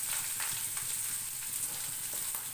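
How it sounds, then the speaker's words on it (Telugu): Mustard seeds and dal sizzle steadily in hot oil for tempering, a close, even frying hiss with small scattered pops, with no voices. "ఆవాలు బాగా చిటపటలాడాయండి పచ్చని పప్పు యాడ్ చేసుకున్నాను"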